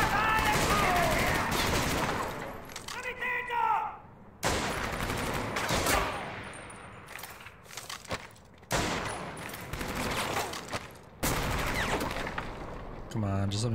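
Rapid bursts of gunfire in Medal of Honor: Vanguard, a World War II shooter, crackle in repeated volleys separated by brief gaps, loud and close, with someone talking over parts of the fighting.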